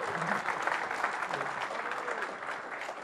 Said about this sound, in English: Easiest applause I've ever had.